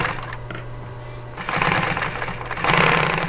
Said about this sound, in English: So I'm using a Juki walking foot sewing machine.